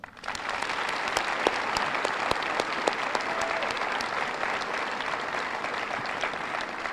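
Audience applause at a school district Veterans Day ceremony, a steady, dense round of clapping from a large crowd that starts abruptly and holds evenly throughout, with no talking over it.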